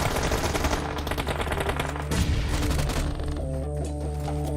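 Rapid automatic gunfire in the mobile battle royale PUBG Mobile during a PMPL SEA Season 4 esports match, dense bursts of shots over loud game music, with a sustained tonal synth line taking over near the end.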